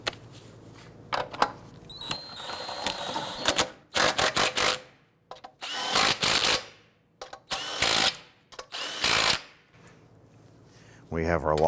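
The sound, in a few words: power tool snugging down lug nuts on Infiniti G37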